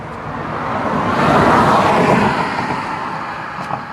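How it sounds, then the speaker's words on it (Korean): A passing car swells from the distance, peaks at moderate loudness around the middle and then fades, with a soft broadband roadway whoosh at an outdoor spot beside a busy road. "차 소리가 많이 들리죠?"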